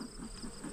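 Honeybees kept in a log hive hum at the entrance, a faint, steady buzzing drone with gentle pulsing swells, quiet and close, no voices.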